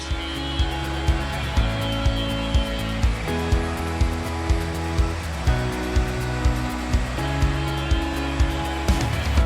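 A droning machine whine runs continuously, with a regular rhythmic thump pulsing every half second or so, like a rotating polisher working on 2-inch metal tubing for a boat's hardtop supports.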